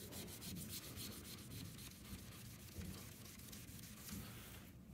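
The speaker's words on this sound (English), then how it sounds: "let's give it a touch with the Mr. Clean Magic Eraser" Steady rubbing and scrubbing of a Magic Eraser sponge over painted steel on a vintage Peugeot PX-10 bicycle frame with light rust, a continuous close, dry friction sound with soft repeated strokes throughout.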